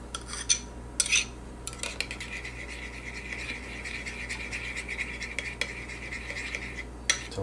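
A utensil scrapes and clinks against a bowl while stirring a yeast mixture for French bread dough, steady and close, with a few sharper knocks at the start and end.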